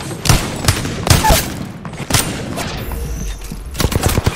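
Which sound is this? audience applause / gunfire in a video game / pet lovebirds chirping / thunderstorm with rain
gunfire in a video game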